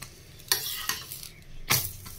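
Chhatu paratha frying in oil in a pan, with a steady hiss of sizzling and a couple of sharp scraping or clinking spatula strokes close by, no voices.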